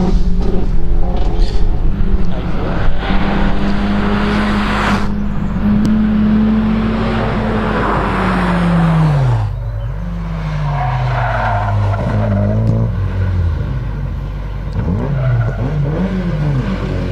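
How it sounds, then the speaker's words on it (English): An Audi A4 racing up a hillclimb course toward the finish line: a loud, close engine roars and revs, pitch climbing and dropping with gear changes, then slides lower as the car passes. "This is Alex coming up towards the finish line in his Audi A4."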